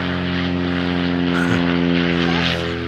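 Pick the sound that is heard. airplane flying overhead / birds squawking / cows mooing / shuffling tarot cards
airplane flying overhead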